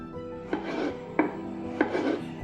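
Three crisp knife strokes cut onion into chunky pieces at a slow, even pace, each a short crunchy chop with a brief rasp, close by.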